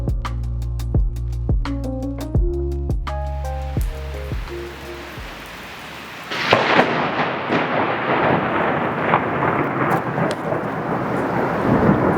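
Thunder during a lightning storm in Italy, heard after a stretch of ringing tones as a loud, sustained rumbling roar with rain-like hiss continuing to the end.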